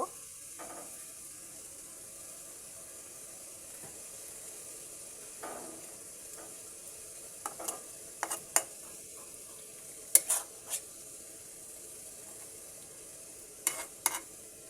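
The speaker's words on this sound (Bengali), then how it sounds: "এবার একটু হালকা করে নেড়ে দেব" Rohu fish curry with potato and tomato gently stirred in a pan after cumin powder goes in, a faint steady simmer under scattered light spoon taps and scrapes, clustered in the later part; no voices.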